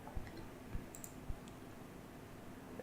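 A computer mouse gives three light, separate clicks at a plus button, spaced about half a second apart against a quiet room hiss.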